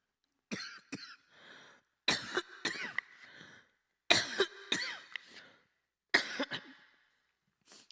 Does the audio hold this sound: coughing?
yes